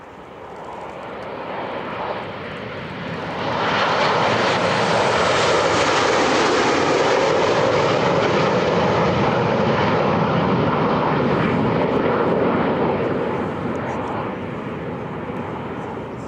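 A formation of F-5 jets roars past at the Oshkosh airshow, a broad engine rush that swells to a loud sustained peak over several seconds and then slowly fades, with announcers talking over it.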